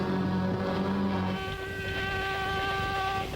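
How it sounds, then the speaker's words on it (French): A whining, insect-like buzz in a TV show episode of Jaguar Force: Thunderbolt, mosquito-like in character, holding steady and fairly loud for several seconds with a pitch shift partway through, no talking. "Oh, le bon bruit de moustique là."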